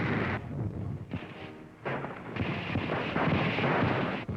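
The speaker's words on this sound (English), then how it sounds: "Tanks and artillery concentrate on the Gabas Gap." Artillery and tank fire from a 1943 North African battle at the Mareth Line, heard as dense, continuous booming and rumbling barrage with overlapping blasts throughout, loud and close, no speech.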